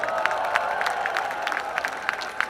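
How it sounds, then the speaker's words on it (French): A festival crowd at Nuits d'Afrique in Montreal gives a stretch of applause, steady rapid clapping from many hands at a moderate distance, with some faint cheering. "Est-ce qu'on peut faire un tonnerre d'applaudissements pour Nuit d'Afrique"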